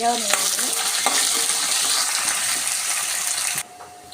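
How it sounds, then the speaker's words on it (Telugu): Semiya vermicelli frying lightly in a pan with onions, chillies and curry leaves, a loud close sizzle with stirring scrapes that cuts off abruptly near the end. "ఇలా లైట్గా ఫ్రై అయితే చాలండి"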